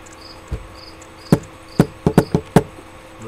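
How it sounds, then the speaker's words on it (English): A cricket chirps faintly in the background in repeated thin, high trills, while sharp knocks and taps ring out loudly and irregularly in the foreground. "boring when you hear a cricket in the background"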